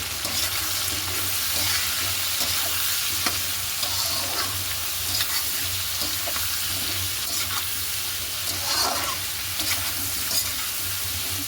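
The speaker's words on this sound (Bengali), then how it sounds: "এটাও ভালো করে ভাজা ভাজা করে নরম করে নিই" Steady sizzle of vegetables with turmeric and potatoes frying in a pan, with occasional stirring scrapes and clinks running through, continuous and fairly close, no talking.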